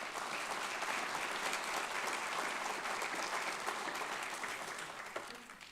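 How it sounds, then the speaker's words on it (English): Sustained applause from an alumni awards celebration audience honoring Don Main, a dense wash of many hands clapping that holds steady and starts to ease slightly toward the end. "Let's give a round of applause to Mr."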